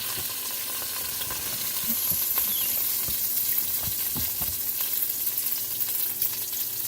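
Cabbage hitting a hot pot for keto cabbage soup, giving a steady loud sizzle and crackle with faint stirring scrapes, no talking.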